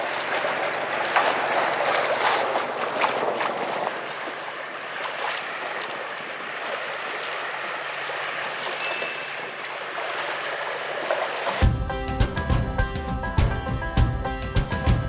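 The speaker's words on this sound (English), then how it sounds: "The only thing we pretty much hear is a dinghy behind there flopping around" A dinghy towed behind a sailboat slaps and flops on the water, with irregular splashing and hull knocks over a constant wash of waves and wind, close by. A sharp switch to music comes near the end.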